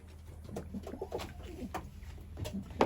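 Tumbler pigeons cooing repeatedly in soft, throaty bursts, close by, with light rustling and a low background hum.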